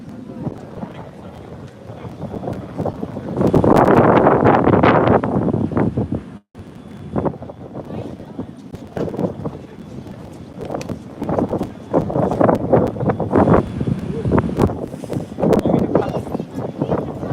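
Strong wind buffeting the microphone outdoors in Denmark, roaring in heavy gusts with a loud surge near the start, while people talk intermittently over the blustery noise.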